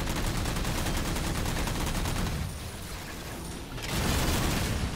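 Rocket Warthog gunfire in Halo 4, heard as continuous, loud rapid-fire shooting with dense booming texture, easing briefly in the middle before surging again.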